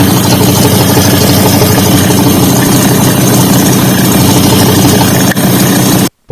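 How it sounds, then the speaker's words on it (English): A steady, rumbling car engine idles continuously with the oil cap off, faint irregular pops in the drone, then cuts out abruptly near the end. "kind of like a popping noise when the oil cap's off"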